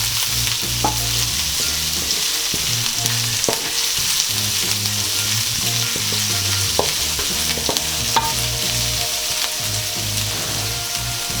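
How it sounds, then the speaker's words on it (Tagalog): Chopped onion is stirred and sizzling steadily in a hot pan for beef mechado: continuous loud frying crackle with repeated scraping strokes of the stirring utensil, close up and without speech. "Ngayon po ay pwede na po nating isunod ang ating sibuyas. Tapos ihahalo na naman po natin ulit."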